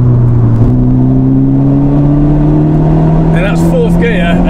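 A 316 bhp Honda Civic Type R FK8 engine pulls hard in fourth gear on a race track. The steady, loud drone rises in pitch throughout with wind noise, and someone talks over it.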